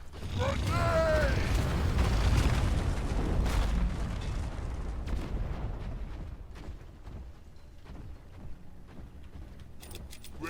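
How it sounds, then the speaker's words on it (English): A grenade in the video game Deep Rock Galactic goes off with a loud, close, rumbling blast that slowly fades into debris clatter and scattered metallic clicks. "Grenade!"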